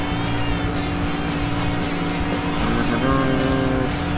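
Steady engine drone of a car driving in the video game Sonic Adventure 2 Battle, a continuous mid-level hum with a slight rise in pitch near the end, heard alone.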